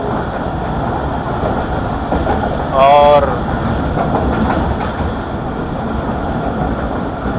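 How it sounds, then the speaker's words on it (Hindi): The Marvi Passenger train runs fast through the Thar Desert in rain, a steady loud rumble of wheels and carriage noise throughout, with a brief high squeal near the middle and a voice speaking over it. "ट्रेन भी तेज़ी से जा रही है"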